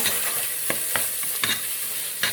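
A spoon stirs tomato sauce made with tomato paste, a bouillon cube, garlic and pepper in a pan, giving several sharp clinks against the pot over a steady sizzle.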